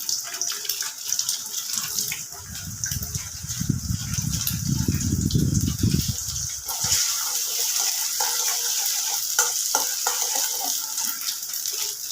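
An egg fries in a pan of oil while a bottle gourd curry is being made. A constant hiss of frying runs throughout, with a louder, rougher sputtering burst for a few seconds in the middle.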